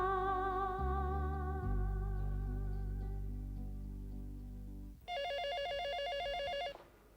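After a number is dialed, a telephone rings in a TV drama scene: sustained tones and low hum first, then a loud electronic ring burst near the end, with no speech.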